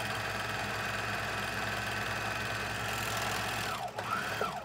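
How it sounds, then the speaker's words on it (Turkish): A Bernina Bernette 700D overlock sewing machine runs at a steady speed, producing a continuous mechanical hum and rapid stitching chatter. The machine slows and the sound changes briefly near the end. "daha güzel bir overlock dikişi veriyor."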